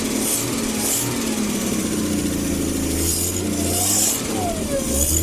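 Engine of an old Rambler car running after sitting 30 years, a loud, steady close idle with a rough, buzzing drone and slight rises in pitch, alone with no voices.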